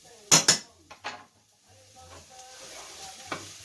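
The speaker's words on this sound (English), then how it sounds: "put it under the knife. Give it a good smash." Four small garlic cloves are crushed under a flat knife blade on a kitchen board, two sharp close knocks in quick succession, followed by softer clatter and light handling noise.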